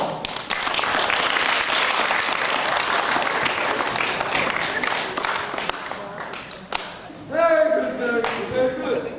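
A school audience at a high school drama performance claps loudly and steadily, a dense burst of applause that thins near the end as voices and cheering rise over it.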